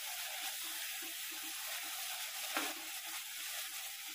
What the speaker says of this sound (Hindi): इस प्याज को हमें मध्यम आंच पे 10 मिनट तक अच्छी तरह से भून कर पका लेना है